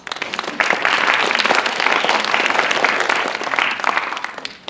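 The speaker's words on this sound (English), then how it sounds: "So will you please give my panel a round of applause?" An audience at an alumni panel applauds steadily and loudly for about four seconds, a dense wash of clapping with no talk over it.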